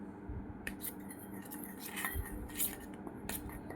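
A spoon stirs a natural skin-whitening body pack in a bowl, making quiet, irregular scraping and clicking sounds against the bowl along with soft, wet squishes.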